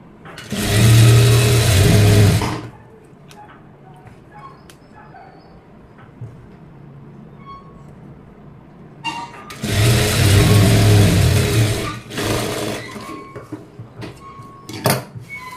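A sewing machine stitches a folded blouse piece in two separate runs of steady, rapid whirring a few seconds each, with quiet handling sounds in the pauses between.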